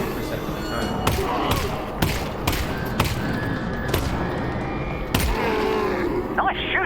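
Several evenly spaced gunshots from Alyx's pistol in Half-Life: Alyx, punchy cracks roughly a second apart over a steady ambient bed, with faint speech nearby.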